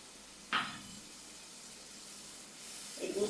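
Milk goes into a pan of frying chicken masala for a Bengali chicken changezi, giving a short sharp hiss, then a quiet soft sizzle that swells again at the end.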